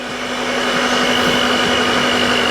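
Steady whirring drone of a hand mixer working pizza dough in a bowl, loud and close. It holds one constant motor tone from start to finish with no voices.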